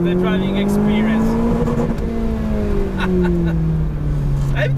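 Supercharged 1.8-liter Lotus Elise S 220 with a straight pipe exhaust, loud and close, engine note steadily droning and shifting pitch as it drives, with a voice talking over it.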